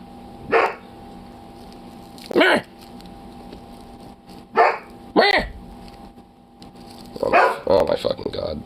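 A dog barks in several loud, separate bursts spread over a few seconds, close by, with a final cluster of rapid barks; no speech in between.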